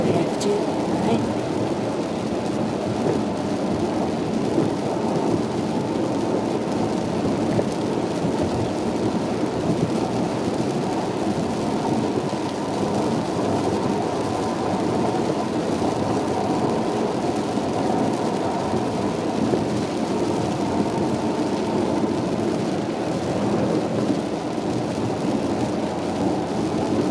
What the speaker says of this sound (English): I love rainy weather.